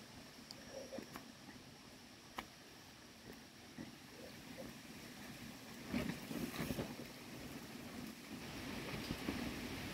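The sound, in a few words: wind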